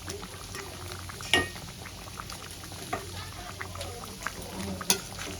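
Water with fried boal fish boils in a pan for a spicy fish curry, a busy close bubbling with small pops and gurgles, plus a few sharper splashes.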